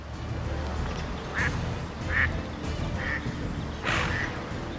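Four short, high calls from wild ducklings in a wetland come at even spacing over a low, steady background rumble. The calls are fairly close and clear.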